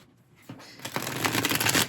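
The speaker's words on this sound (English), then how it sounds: "I'm going to shuffle it just one more time." A tarot card deck is shuffled close up in a quick, dense riffle of papery flutters that grows louder over about two seconds.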